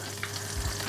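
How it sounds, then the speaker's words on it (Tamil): Cumin seeds splutter and crackle in hot butter in a pan, a steady close sizzle with small pops throughout the brief moment. "இப்போ இந்த பட்டருக்குள்ள அரை தேக்கரண்டி சீரகம் பொரிஞ்ச உடனே"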